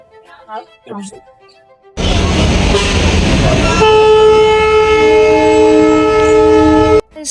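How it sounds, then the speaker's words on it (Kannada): A moving train rumbles loudly and steadily, overlaid by a long sustained horn blast, after a moment of quieter background voices. "ಇವಾಗ ಟ್ರೈನ್ ಓಡ್ತಾ ಇದೆ"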